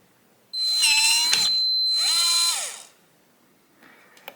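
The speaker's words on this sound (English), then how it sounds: "once you hear that long beep and the bolt extends, the reset is complete" A Veise smart door lock gives a long electronic beep over a motorized whirring as its bolt drives out after a factory reset, followed by a second rising-and-falling motor run and faint clicks.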